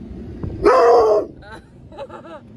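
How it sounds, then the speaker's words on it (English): A Rottweiler gives one loud, drawn-out bark-howl up close at a passing cement truck, followed by a few quieter yips and whines. "show you what Tank's barking at"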